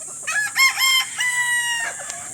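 Straight-breed gamefowl pullets in their pen cluck and let out a short, strained crow close by, with several overlapping high calls in quick succession.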